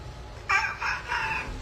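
A human voice imitates a rooster crowing madly, as if the bird were rabid: three loud, strained, harmonic crow bursts in quick succession, close and alone.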